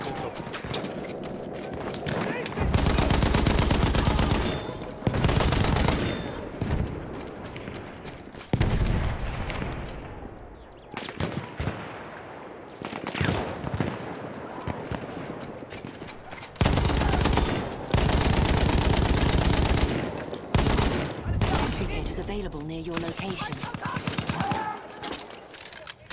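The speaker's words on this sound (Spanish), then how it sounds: "who the fuck shooting at me?" Gunfire in the Battlefield 1 World War I shooter comes in loud, close bursts and volleys across the span, separated by short quieter gaps.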